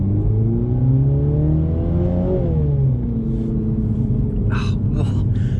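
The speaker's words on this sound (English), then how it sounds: "the exhaust is great though. It's probably the best sound, it's one of the best sounding cars though." A 2021 Mini Cooper JCW GP3 engine and exhaust rumble steadily up close, the revs rising and then dropping back, while someone talks over the noise.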